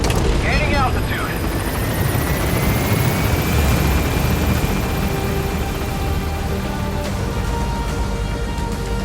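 A helicopter in Metal Gear Solid V: The Phantom Penny lifts off, a loud continuous rotor and engine roar that holds steady throughout, with a rising whine early on and a voice speaking over it.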